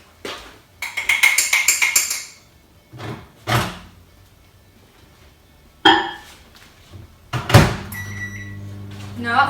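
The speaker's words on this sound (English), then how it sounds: "And put it in the microwave." Microwave oven used for a mug meal, with a door clatter, a beeping control panel and a clunking shut, followed by the oven's low hum starting up; a person speaks briefly.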